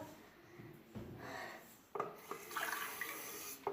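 Water poured over a person's head during a challenge, a splashing, rushing pour in two surges, close and fairly faint, with no talk.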